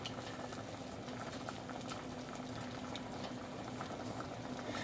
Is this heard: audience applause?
no